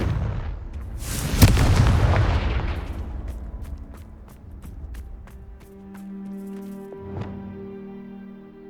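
A Confringo fire spell blasts in Hogwarts Legacy: one heavy booming explosion with a long rumbling decay, followed later by a second, lighter impact over tonal game ambience.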